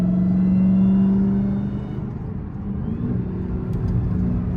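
A hoodless 1000 hp Dodge Demon 170 Charger engine rumbles loudly up close, with a deep droning tone that eases off and then builds again as it accelerates.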